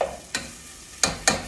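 Vegetables sauté in a pot for an Italian sausage bean soup, a soft steady sizzle broken by three or four sharp spoon strokes against the pot, with no talk.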